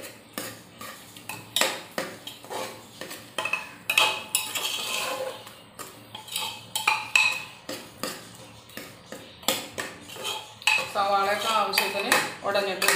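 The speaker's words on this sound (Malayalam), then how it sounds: "നന്നായിട്ട് ഇളക്കി വലിപ്പിച്ച് കൊടുക്കാം" A metal spoon stirs egg curry in a pressure cooker pot, producing a rapid, continuous run of loud, close clanks and scrapes against the metal throughout.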